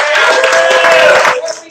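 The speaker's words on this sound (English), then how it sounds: "Give everybody a round of applause." A crowd at the 2019 Monterey lingcod fishing derby claps together in a short, dense burst of applause that fades out quickly.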